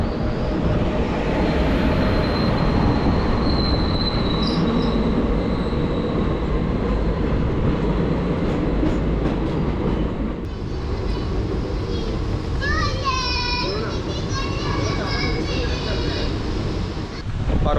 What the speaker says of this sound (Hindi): ये सामने सिकंदराबाद दरभंगा ट्रेन हमें ओवरटेक कर रही है